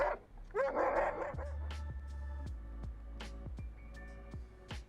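A dog in a tense episode of The Last of Us barks repeatedly, a steady run of sharp, loud woofs at close range over a low background rumble, with a brief whimpering sound near the start.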